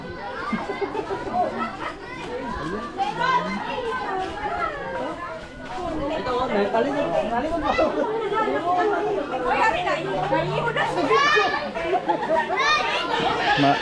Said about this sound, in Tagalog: Ala, ang ingay ng mga bata.